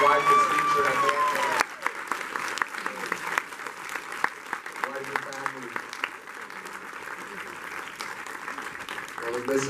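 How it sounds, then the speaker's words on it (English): Theater audience at a Q&A breaks into applause that carries on steadily across the whole stretch, with an introductory voice heard at the very start. "let's give them a round of applause"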